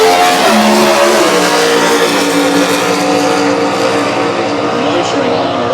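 A drag race car accelerating hard down the track during the final qualifying session at the 2013 Winternationals, a loud continuous roar held for several seconds under an announcer's commentary.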